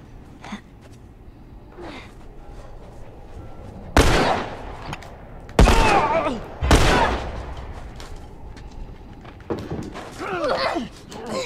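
Several sharp, loud gunshots in The Last of Us video game, three or four separate blasts spaced a second or two apart over quieter game ambience.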